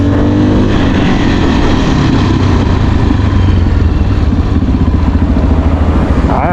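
A motorcycle riding in second gear at about 40 kph, giving a loud, close, steady engine drone with a rough, pulsing low rumble and wind noise throughout, and no talking.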